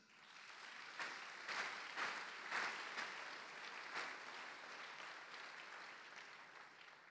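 A church congregation applauding during a French-language Sunday service, a sustained wash of clapping from many hands that swells and gradually tapers off, moderately distant.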